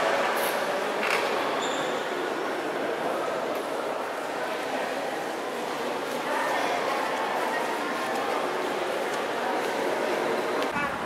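A train at Gdynia railway station creaks and rumbles with steady wheel noise and faint metallic squeals, loud and continuous with voices in the background.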